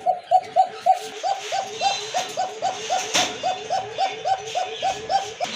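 Pigeons, including a young satin pigeon, coo in a farm loft with a steady, evenly spaced run of soft, rounded coos close by, repeating without a break.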